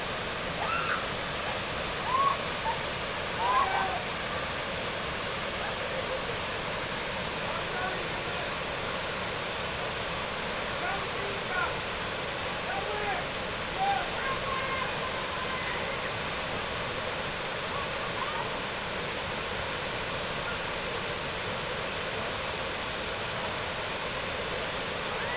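A waterfall on a gill in the Lake District fells roars as a steady, even rush of water, heard continuously from a short distance with no talk over it.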